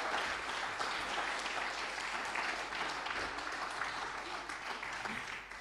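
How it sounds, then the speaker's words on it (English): A church congregation at an all-age service claps steadily, a faint, even patter of applause sustained throughout from a distance. "Let's give them a big clap as they go back."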